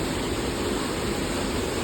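Steady rushing of running water, a dense even hiss that holds without a break from start to end.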